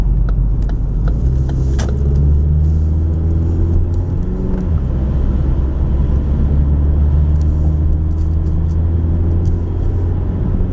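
Car cruising on a highway in Michigan, heading north on M53 between Sterling Heights and Shelby Township; steady loud road and engine rumble with tire noise, continuous throughout and no talking.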